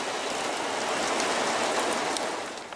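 Steady rain on the foggy Oregon coast hissing down on a surface nearby, a dense, even wash of noise that eases slightly at the very end.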